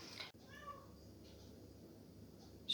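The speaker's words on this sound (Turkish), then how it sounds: "Şu anda olduğu gibi gene oyun oynamak istiyor muhtemelen ve miyavlıyor, beni çağırıyor." A house cat meows a few times, fairly close, calling for someone to play with it in a quiet indoor room.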